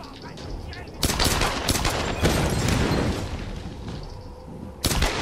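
Gunfire in the Tomb Raider video game, loud close bursts of rapid automatic fire that run almost continuously, with a sharper burst near the end and a player's voice briefly talking over it.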